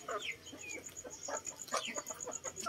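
Heritage chickens cluck softly and repeatedly close by, with several overlapping birds making short rising clucks and chirpy calls over a quiet outdoor background.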